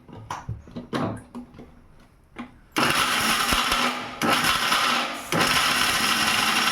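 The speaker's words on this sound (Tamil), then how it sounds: "தேங்காய் வெங்காயம் மட்டும் போட்டு லைட்டாக அரைச்சிக்குவோம்" Kitchen mixer grinder whirring loudly as it grinds coconut and onion, starting after a few quiet knocks and clatters, running in two or three steady bursts with short pauses between them.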